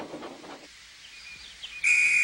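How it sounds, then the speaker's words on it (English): A train conductor's whistle from a toy railway story blows one shrill, steady, loud tone near the end, after a brief voice and some faint chirpy squeaks. "Oh, that's my conductor's whistle."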